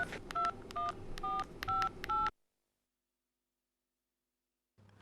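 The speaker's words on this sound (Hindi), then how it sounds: "मैं एक मिनट फोन कर लेता हूँ मंशा।" A telephone is dialed with a quick series of about eight touch-tone beeps in uneven rhythm, then silence before a faint hum returns at the end.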